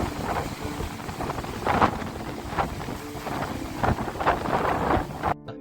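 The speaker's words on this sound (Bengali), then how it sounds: "এখন জোয়ারের টাইম, তাই ঢেউগুলো খুব ভালো ভালো হচ্ছে।" Waves surging and breaking at high tide on Mandarmani beach under an overcast sky, with loud, continuous wash punctuated by several stronger crashes and steady wind buffeting the microphone, with no voices.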